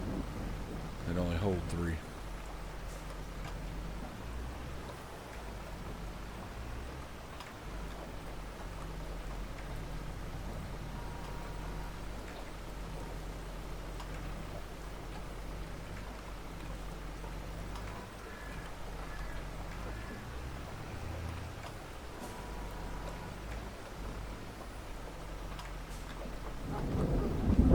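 Steady rain with rumbling thunder in a farming video game, a continuous wash of rainfall with low rolling rumbles swelling at times, while a person talks briefly over it.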